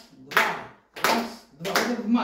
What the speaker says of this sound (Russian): Можете мне хлопать в ладошки?